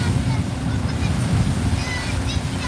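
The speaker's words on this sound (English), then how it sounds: "it's a little windy, so I can't fly the drone, and it's really choppy out here" Wind and choppy waves slap around a small dinghy on open water near the Golden Gate Bridge, a steady dense rumble of surf and gusting wind noise on the microphone, continuous and close throughout.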